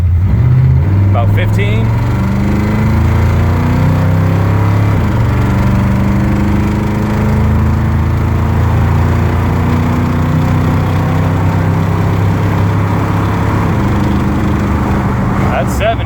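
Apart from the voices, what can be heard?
1977 Ford Super Cab pickup accelerating at full throttle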